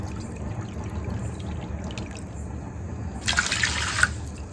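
A cup of water is poured into a kadhai (wok-style pan) of sugar in a home kitchen to make syrup, a brief splashing pour of about a second against low background hum.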